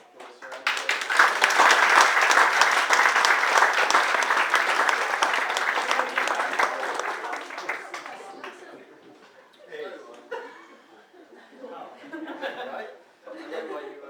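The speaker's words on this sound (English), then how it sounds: "Could I just get one more applause for Andy?" Sustained audience applause at a live speaking event, loud and dense for about eight seconds before fading, with scattered laughter and talk emerging as it dies down.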